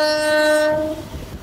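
A Howrah–Amta local train leaving Dansi station sounds a loud, sustained horn blast that cuts off after about a second, leaving rumbling rail noise.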